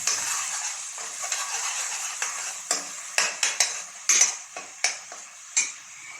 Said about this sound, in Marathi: त्यात आता वाटण टाकलं. चांगलं तेलामध्ये परतायचं.